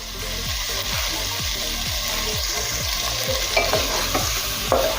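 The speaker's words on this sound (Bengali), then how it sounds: "আর চিকেন নাড়তে নাড়তে মাঝে দেবো পরিমাণ মতো লবণ" Chicken pieces fry in a hot pan while being stirred, a steady loud sizzle punctuated by regular scraping strokes of a spatula about twice a second, with a few sharper clinks near the end and no voices.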